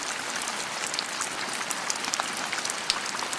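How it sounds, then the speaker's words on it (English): Heavy rain pours down without letup in Scotland, a dense, even hiss of drops striking surfaces, with a few sharper close splats standing out. "the rain here, it just won't stop"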